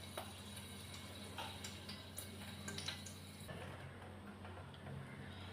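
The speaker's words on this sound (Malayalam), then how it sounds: "ഈ കടുക് പൊട്ടിച്ച് ഞാൻ ഇതിലേക്ക് ഇട്ട് കൊടുക്കുകയാണ്" Mustard seeds spluttering in hot oil in a pan while cooking an ivy gourd (kovakka) thoran, heard as quiet scattered ticks and pops over steady background hum.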